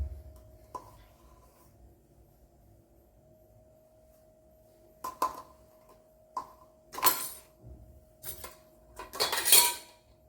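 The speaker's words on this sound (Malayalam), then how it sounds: "ഇതിലേക്ക് ഇനി കുറച്ച് ഐസ്ക്രീം ഇട്ട് കൊടുക്കാം" A spoon scoops ice cream into a glass of rambutan shake, giving sparse, quiet clinks and scrapes of metal on glass that grow busier toward the end, with no talking.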